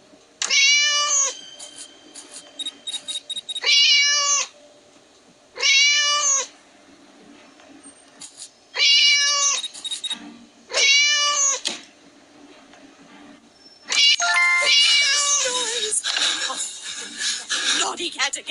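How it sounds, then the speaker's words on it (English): Repeated cartoonish cat meows from the Scary Teacher 3D game, five or six short bursts in a row separated by brief pauses, ending in a longer, busier run of cries and game sounds near the end. "How come that naughty cat just vanished?"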